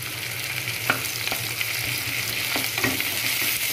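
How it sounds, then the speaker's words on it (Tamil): Onions sautéing in a pan for chicken biryani give off a steady close sizzle, broken by a few sharp scrapes and clicks of stirring, with no one talking. "இப்போ வெங்காயம் நல்லா வதங்கிட்டோம்."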